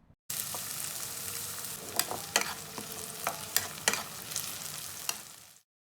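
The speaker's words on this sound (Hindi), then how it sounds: "हमने प्याज को यहाँ पर ब्राउन करना है, तो साथ में हम चम्मच चलाते जाएंगे और मीडियम फ्लेम पर हम इसे पकाएंगे।" Onions frying and browning in a pan over a medium flame, a steady sizzle with repeated sharp scrapes and clinks of a spoon stirring, close and alone with no talking.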